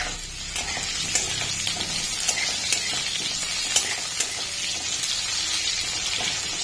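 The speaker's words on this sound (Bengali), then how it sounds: "আলুগুলো একটু ভেজে নেব, এমনি কাটা আলু ভেজে নেব। আলুগুলো লাল লাল করে ভাজবো।" Cut potatoes sizzle steadily in hot oil, a dense continuous frying hiss with occasional sharper crackles and light scrapes as they are stirred, close and fairly loud with no voices.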